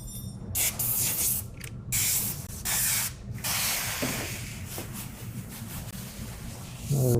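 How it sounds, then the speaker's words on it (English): A spray bottle hisses water onto vinyl wrap film in repeated bursts, several close squirts with short pauses between, plus a faint rubbing sound. "Lift and spray, put it back down."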